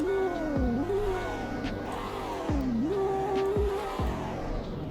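A taxi-trim car engine in the Roblox game Greenville runs steadily, its tone rising and falling as it revs up and eases back twice, with dull low thumps between revs, close and continuous.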